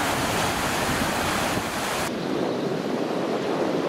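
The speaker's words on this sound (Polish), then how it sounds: "Po pierwszym stopniu widać, że już woda się przelewa." Oder river water spilling over the first step of a weir in Racibórz, a loud, steady broadband rush of falling water, close and continuous with wind buffeting the microphone.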